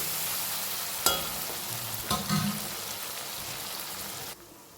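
Bottle gourd and chana dal dropped into hot tempering oil, sizzling loudly with a couple of sharp bursts and stirring clatter, then quieting abruptly at the end.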